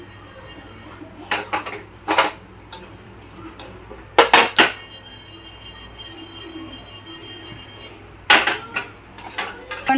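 Dry urad dal being roasted over a low gas flame for curry leaf chutney, heard as close, scraping stirs against the pan, with irregular bursts of metallic clatter and rubbing amid quieter pauses.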